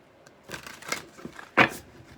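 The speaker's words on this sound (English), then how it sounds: "Or a few more shuffles, what I should say." Tarot cards are shuffled in a few quick riffling bursts, soft papery flutters ending with a sharper snap, close by and quiet with no talking.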